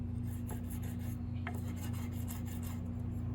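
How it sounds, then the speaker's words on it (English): A fret rocker rubbed back and forth to polish the frets on a headless electric guitar, a close, steady rasping scrub in quick regular strokes over a constant low hum. "fret rocker can also be used as a polishing tool"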